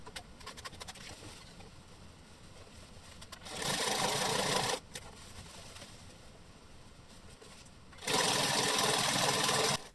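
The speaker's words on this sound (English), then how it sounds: "Then sew along the folded edge." Sewing machine stitching along the double-folded hem edge of boxer shorts, two loud steady bursts of running stitches of about a second and a half each, separated by quieter handling noise.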